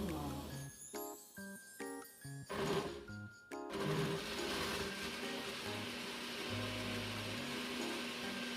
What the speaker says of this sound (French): Donc, je vais écraser les condiments.